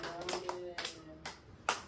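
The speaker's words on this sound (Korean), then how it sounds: "하나님께 영광의 박수 한번 올려드리도록 하겠습니다" A church congregation claps, heard as a few faint, separate hand claps spaced through a quiet room with a low hum underneath.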